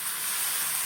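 Chicken gizzard frying in a pan with golden-browned garlic, onion and ginger, a steady bright sizzle and hiss throughout, close and fairly loud.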